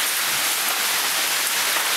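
Large hailstones falling in a hailstorm in Japan, a dense, steady, hissing patter of many impacts filling the space evenly from start to finish.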